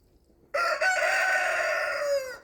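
One loud rooster crows close by in a backyard vegetable garden, a single sustained call of nearly two seconds that rises out of near silence and then fades.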